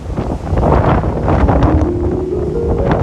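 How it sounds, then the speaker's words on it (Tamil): Strong gusty wind before rain at Worli in Mumbai roars across the microphone as a loud, continuous rumble that rises and falls in gusts, with a faint steady tone in the background. "மழை வர்றதுனால இந்த காத்து பயங்கரமா வருது"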